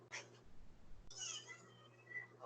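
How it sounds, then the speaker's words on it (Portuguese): A pet cat indoors during a home-office call gives a couple of short meows, the first brief near the start and a longer one after a pause, moderately close over a faint background hum. "Vocês estão ouvindo a minha gatinha miando?"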